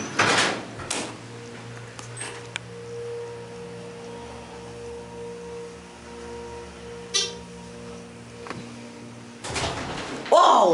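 A Dover oildraulic elevator in a parking deck, rated at 3,500 capacity, has its door closing amid a steady machinery hum and low tones, with a few clunks and a louder rattling knock near the end.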